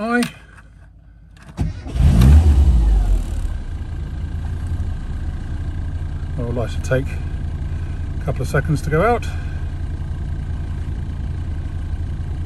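A 1998 Rover Mini Cooper 1.3i engine cranks and catches, then settles into a steady idle, with a person talking briefly over it.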